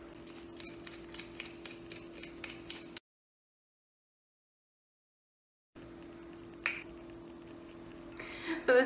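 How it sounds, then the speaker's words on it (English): Potatoes are peeled by hand for a large batch of homemade chips, with quick, sharp, evenly spaced peeler strokes close up. The strokes go silent partway through, then resume more faintly with a few louder scrapes near the end. "we're gonna peel all these potatoes."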